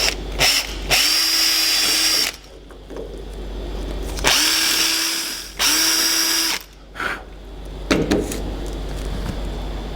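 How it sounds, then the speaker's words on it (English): Power drill boring a hole to fit a cable for an underwater light, several loud whining bursts of a few seconds each, with motor pitch steady during each run and brief handling noises between them. "So I'll start drilling the hole to tightly fit this cable."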